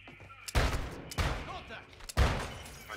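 Bursts of automatic gunfire in Call of Duty, three loud rattling volleys, each cut off sharply, with a short gap between them. Game noise carries on underneath.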